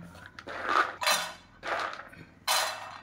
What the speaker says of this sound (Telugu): ఇప్పుడు మనం ఇందులో మసాలాల కోసం ఫస్ట్ పల్లీలు వేసుకుందాం